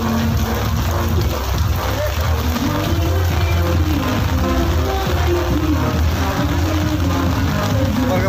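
Heavy rain falls steadily at a garden nursery on its opening day, a dense, loud, unbroken wash of noise that holds evenly throughout with no voices on top.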